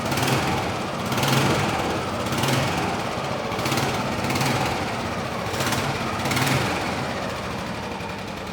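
Vintage motorcycle engine revving in steady pulses, a loud continuous buzzing drone that swells in repeated throttle blips roughly every second or so, close by with no talk.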